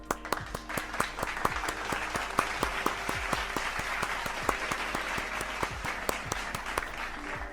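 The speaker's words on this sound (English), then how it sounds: "Let me also, aside from saluting you, applaud you." A modest crowd claps in a loose, uneven patter of sharp individual hits that settles into a steady ripple of applause and carries on for several seconds, fairly close, with no talking.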